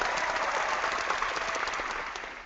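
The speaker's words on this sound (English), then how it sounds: "That was the warm weather applause." An indoor crowd at an after-hours fellowship gathering breaks into dense, steady applause that holds evenly and then begins to fade toward the end.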